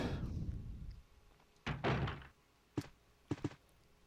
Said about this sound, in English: I think it's in here that we can open up the desk.